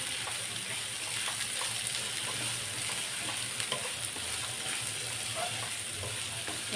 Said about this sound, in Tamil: இப்போ நம்ம நல்லா வதக்கிக்கலாம்.